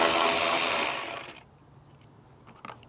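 A power driver with a 5/16 socket whirs steadily for about a second as it backs out a light screw on a 2020-or-later Ford F-150 truck. It then winds down, leaving faint clicks and handling noises.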